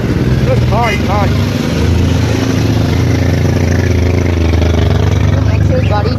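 Vehicles pass on a rain-soaked road with a loud, steady engine rumble close by. Brief wavering tonal calls rise over it near the start.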